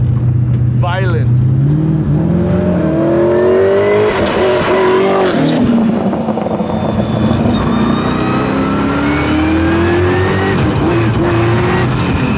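A 1003 whp twin-turbo, supercharged Ford Mustang accelerates hard from inside the cabin, its engine note climbing in pitch through gears with brief tire squeal, loud and continuous, while voices talk over it.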